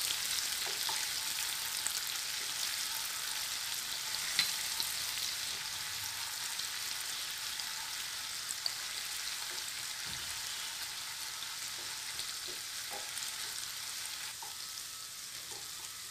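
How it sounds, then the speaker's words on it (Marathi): Ginger garlic paste sizzling and frying in a pan for restaurant-style paneer chatpata, a steady soft hiss with occasional light pops and no talking. "आलं लसूण पेस्ट छान परतून झाली"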